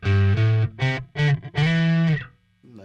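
Bass guitar played through a distortion pedal in a rig setup, several loud sustained distorted notes in a row with brief gaps, then a quieter note at the end; no talking.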